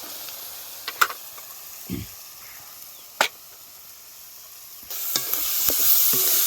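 Finely chopped onion goes into a pan of spluttering cumin, mustard seed and green chilli over a wood-fired stove for vada pav. Scattered clinks and stirring knocks come first, then the sizzle swells into a steady hiss.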